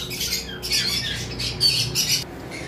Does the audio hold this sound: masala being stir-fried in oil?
no